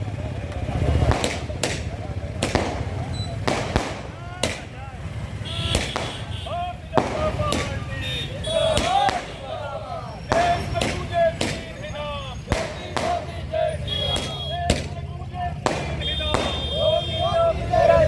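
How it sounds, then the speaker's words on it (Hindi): Firecrackers bursting at an Amethi street celebration of a BJP election win: repeated sharp, loud cracks at irregular intervals, some close and some farther off, over a steady crowd murmur with voices talking. "अमेठी में जश्न का माहौल है, पटाखे फूट रहे हैं"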